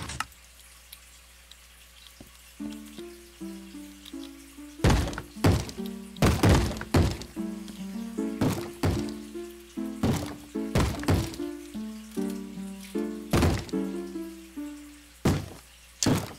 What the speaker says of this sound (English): Why is he banging on doors?